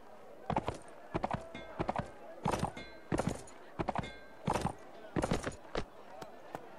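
A horse at a horse merchant in the Mount and Blade video game stamps out sharp, evenly spaced hoof thuds, roughly one or two per second, crisp and close.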